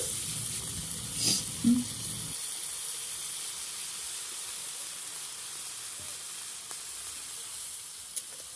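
Water splashes into a hot pan of rui fish curry with tomato, eggplant and cauliflower, giving a brief sizzling burst that settles into a steady, faint hiss of steam.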